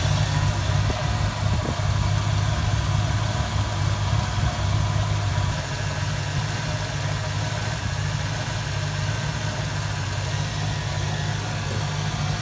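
A Fox Body Mustang engine idles after a three-row aluminum radiator install, warming until the thermostat opens: a steady, close, low rumble with constant hum, dipping slightly in level about halfway through, with no voices.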